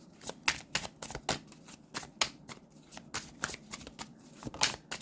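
Tarot cards shuffled by hand in rapid, crisp riffling flicks that come in irregular clusters, close and fairly quiet, with no talk over them.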